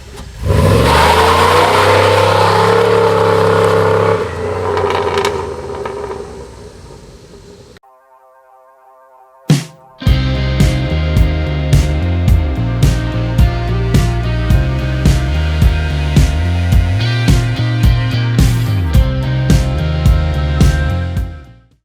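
A 2006 Chevrolet Impala SS with a transversely mounted 5.3-liter LS4 V8 revs hard, drops briefly to near silence, then accelerates loudly through a long pull with a pulsing, rhythmic engine note until it cuts off.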